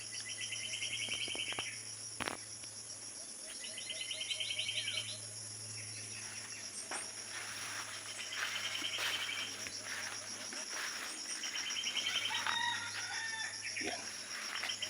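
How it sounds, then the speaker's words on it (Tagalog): A decoy rooster crows repeatedly during a junglefowl hunt in the forest. The calls are moderately distant and come over a steady chorus of crickets and insects, with a faint voice in the background. "tilaok ng tilaok yung ating pangati"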